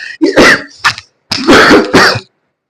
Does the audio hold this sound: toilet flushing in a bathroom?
no